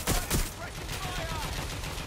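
Gunfire aimed at the player in the video game Watch Dogs Legion, two loud close shots opening a sustained burst of rapid firing with clattering effects beneath.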